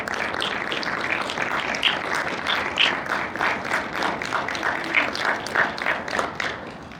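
An audience at a book presentation welcomes a speaker with moderate, steady clapping from a smaller crowd, individual claps audible within the wash, fading slightly toward the end.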